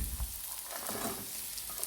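Chicken fried rice with scrambled egg and fried chicken being stir-fried, a brief, fairly quiet hiss of sizzling with soft stirring in the pan.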